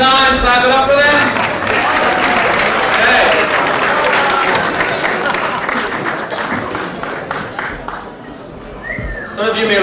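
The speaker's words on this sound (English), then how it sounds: "One more time, clap it up for them." An audience at a live comedy show applauds loudly, dense clapping with scattered whistles and cheers that gradually thin out toward the end.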